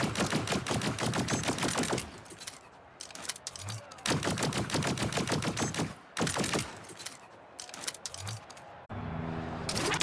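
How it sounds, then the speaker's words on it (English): A Splitgate 2 SMG firing plasma balls rattles out in long rapid-fire bursts separated by short pauses, each burst a dense stream of sharp shots, with mechanical clicks and hums in the gaps. "The SMG, instead of shooting bullets, shoots plasma balls."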